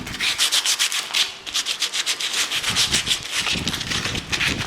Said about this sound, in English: Just give the hole a bit of a sand off to remove any sharp edges.